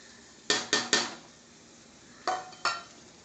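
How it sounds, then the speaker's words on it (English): Pressure-cooked dal going into tomato gravy in a pot: five sharp metallic clanks of a spoon against the vessel, three quick ones then two more after a pause, over a quiet background. "So finally now I'm going to put in the pressure cooked dal, and here goes my dal."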